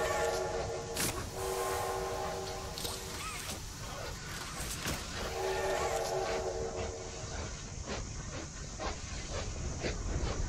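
A train horn honks in the video game Poppy Playtime Chapter 2, sounding as long sustained tonal blasts, two clear ones early, over a hissing, rumbling rail background with faint voices.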